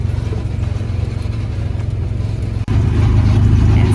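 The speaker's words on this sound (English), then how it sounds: "Yes, you can go faster, but not by much because you're going over rocks." An ATV engine drones steadily at close range while the vehicle crawls over rocks, with a brief dip near the end before the rumble swells slightly louder again.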